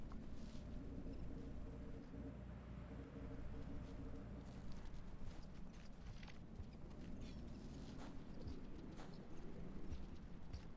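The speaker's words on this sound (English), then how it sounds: "It's raining." Steady rain falls in a video game, a soft, even hiss with faint patters and occasional low rumbles, quiet and continuous throughout.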